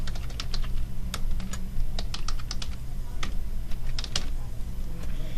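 Someone types an email address on a computer keyboard, quick uneven bursts of crisp key clicks with short pauses, close and fairly quiet against a low room hum.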